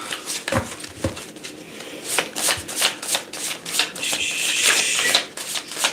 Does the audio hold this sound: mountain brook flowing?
no